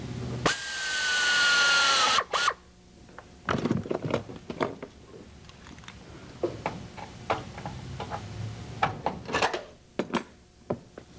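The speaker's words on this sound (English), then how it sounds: "drill the entire skeleton onto the skin" A power drill whines in a sustained burst while drilling an RV-6 aircraft tail skeleton onto its skin, then a string of sharp taps and short drilling bursts follow at an uneven pace, close by.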